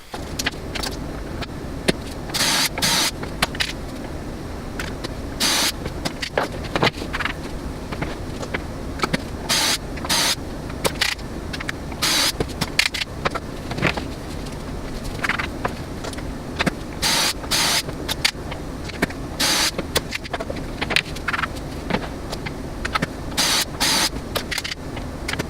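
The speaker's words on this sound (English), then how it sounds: "I got these holes drilled on the ends of all these" A power drill bores holes into the ends of crib conversion kit boards in repeated short bursts, each whine starting and stopping sharply over a steady background, loud and close, with no talking.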